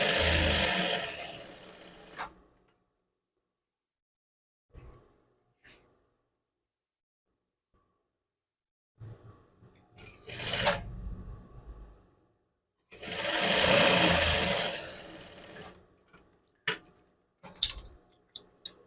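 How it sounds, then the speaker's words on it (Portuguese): A sewing machine stitches the shoulder seam of a chef jacket using a presser foot, running in a few short bursts separated by long silent pauses, with small clicks and handling sounds between, fairly close. "O ombro eu vou emendar com o pezinho de máquina também."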